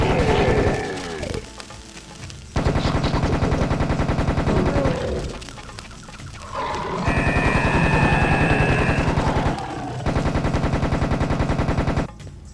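Rapid automatic gunfire in the video game Serious Sam HD, loud sustained bursts of fast repeated shots broken by short gaps, with other game effects and tonal sounds between the volleys.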